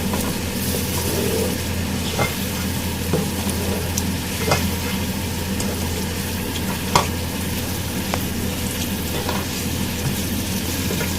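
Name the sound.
chicken masala frying and being stirred with yogurt in a pan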